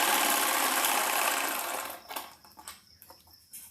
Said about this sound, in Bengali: এটাও আমি সেলাই করে নিচ্ছি